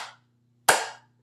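A single sharp handclap in a second-grade music lesson, loud and close, following a brief faint sound and then fading in a quiet room.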